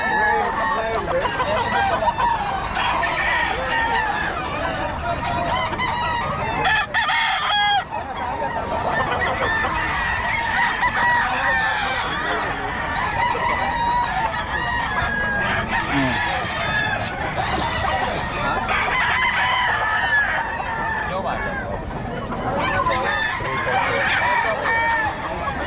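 Gamecock roosters of the Golden Boy breed crow repeatedly at a cockfighting-bird sale, with clucking fowl throughout and people talking over the steady, busy din.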